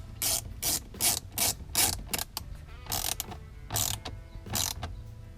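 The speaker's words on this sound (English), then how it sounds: "Now it's just screwing in the bolts." A ratchet driving bolts into a Camaro dash panel gives quick bursts of sharp metallic clicking, close and crisp, in about a dozen short strokes with brief gaps between them.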